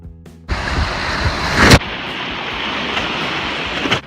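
A river wave crashes over a raft near Park City, Utah, a sudden loud surge of splashing water that peaks briefly and then settles into a steady rushing wash.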